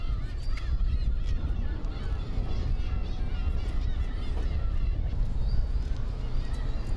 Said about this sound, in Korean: 독도 바다와 섬을 오가며 이곳을 지키고 있는 괭이 갈매기 떼였다